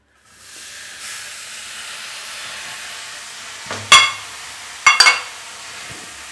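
Grated carrots for a carrot halwa tossed into a hot pan, a soft hissing sizzle that swells and then gives way to a few sharp clatters of stirring near the end.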